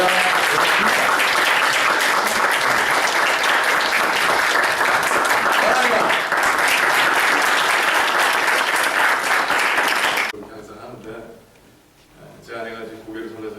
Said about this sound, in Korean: 하나님께 격려의 박수와 또 목사님에게 환영의 박수를